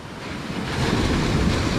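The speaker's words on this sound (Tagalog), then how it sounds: "Medyo malakas lang yung alon." Strong ocean surf in Palawan roars continuously up close, a broad rushing wash of breaking waves building slightly in loudness, mixed with some wind.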